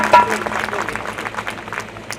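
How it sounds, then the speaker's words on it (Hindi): An audience at a religious discourse in a gaushala claps together, a dense burst of applause that starts loud and fades over two seconds, with a voice heard briefly at the start. "ताली बजाओ उसके नाम।"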